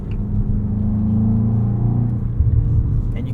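A 2024 BMW X5 M Competition on track at Circuit of the Americas in Austin, Texas, with a steady, loud engine rumble and low road drone from inside the cabin, building slightly toward the end.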